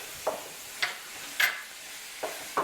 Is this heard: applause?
no